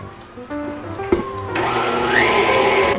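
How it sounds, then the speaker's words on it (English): A stand mixer with the paddle attachment beating chocolate batter: a motor whirs steadily and builds to a louder, denser churning hum partway through, close by with no talking. "gonna use the paddle attachment and beat these until it's nice and fluffy"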